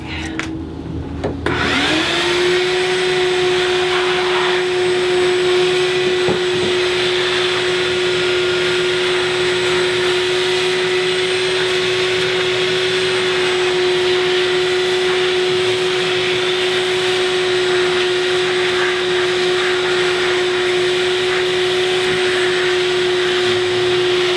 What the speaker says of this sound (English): Let me vacuum this off real quick.